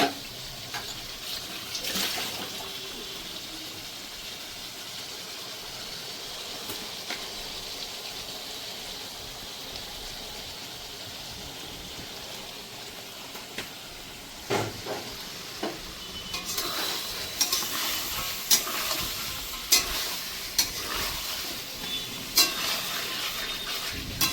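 Hot water is poured into sizzling masala in a pan for chicken kadai, a soft frying crackle that swells into a louder hiss and bubbling splashes in the second half, no talk.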